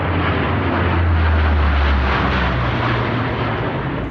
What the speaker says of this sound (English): That was a scary airplane.